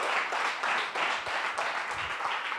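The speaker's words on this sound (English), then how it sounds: "Big applause." Audience applause at a coding bootcamp demo day in Barcelona, a steady, even wash of many hands clapping that holds at moderate loudness throughout with no talk.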